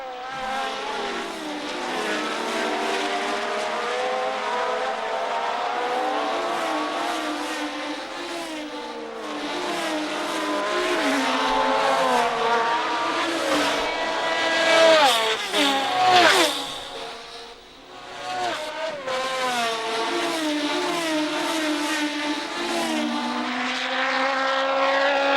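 1970 Formula 1 race cars roar past continuously, engines rising and falling in pitch as they pass, a dense, loud blend of several cars with swelling Doppler sweeps around the middle, no voices.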